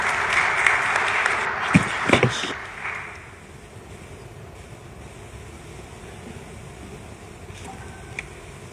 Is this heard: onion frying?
no